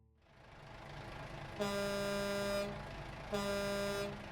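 Two loud, blaring truck air horn blasts in American Truck Simulator, the first held about a second, the second shorter, over a steady low engine rumble.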